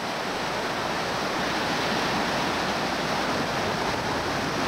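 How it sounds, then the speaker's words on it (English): White water rapids and waves at Fayette Station Rapid on a river roar as a dense, steady wash of rushing water, loud and continuous with no voices. "Fayette Station Rapid has some of the nicest waves on the whole river."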